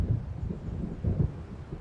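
Approaching storm in the video game Alan Wake, low rolling thunder rumbles and gusting wind at moderate volume, swelling twice under an otherwise dark, quiet ambience.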